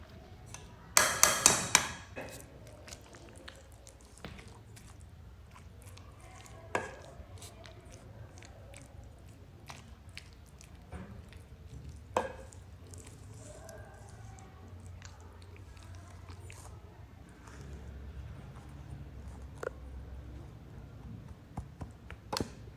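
Cooked dal being mashed in a pot with a spoon, giving soft wet squishing and faint scraping taps, steady and close but quiet, with a burst of sharper knocks near the start.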